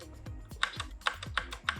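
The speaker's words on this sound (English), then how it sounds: "So I'm going to use my arrow keys to go back." Arrow keys on a computer keyboard pressed repeatedly while editing in Adobe Premiere Pro, about five or six distinct clicks in a steady rhythm, close and clear with no talking.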